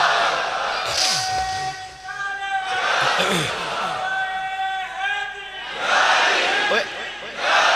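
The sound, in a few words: crowd shouting a religious slogan (nara)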